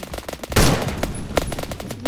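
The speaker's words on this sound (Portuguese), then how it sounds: "eu tô dando tiro." Rapid gunfire from a Roblox shootout, with bursts of quick repeated shots and one heavier blast near the middle, loud and close against a busy game backdrop.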